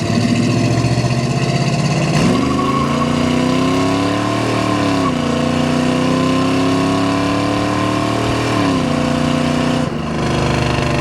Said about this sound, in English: We got it down in first, so we're gonna roll into the throttle here a little bit.